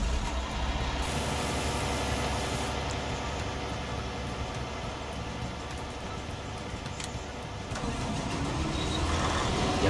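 A farm vehicle's engine in a farming simulator runs steadily with a broad rumbling drone and swells a little near the end as it pulls away, with faint background sounds.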